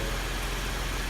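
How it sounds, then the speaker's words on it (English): A 2016 Ford Explorer with a 3.5 engine idles with a steady, even hum, close and continuous for about a second, quiet and smooth with no talk. "Very much a well-maintained and quiet running engine"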